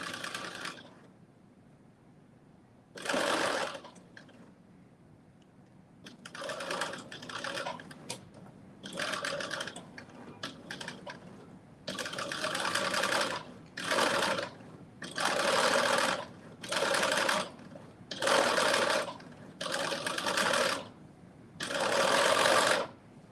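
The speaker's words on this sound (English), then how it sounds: "As you make your 2 rows of basting stitches so that you can ease your sleeve in." A sewing machine stitching two rows of basting along a dress sleeve, running in short bursts separated by pauses, with the bursts coming faster and more regularly toward the end, close and clear.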